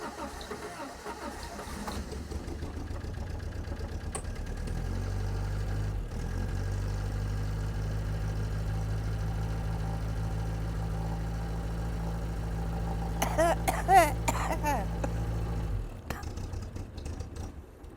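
An MG Midget engine cranking and running roughly with the choke pulled, a steady low rumble that settles into an uneven idle, briefly roughening near the end before cutting off.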